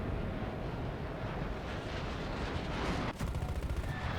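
Rapid aircraft cannon fire from an A-5C jet in a combat flight video game, a harsh continuous rattle over engine roar with a sharp burst near the end.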